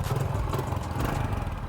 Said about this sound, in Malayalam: കേട്ടോ, അത് യൂറോണിന്റെ സൈലൻസർ ഒക്കെയാണ് അല്ലേ